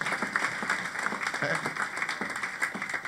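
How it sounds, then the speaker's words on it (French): A church congregation applauds in steady, dense clapping that fills the room for a few seconds, moderately loud and close. "Applaudissez pour vous-même."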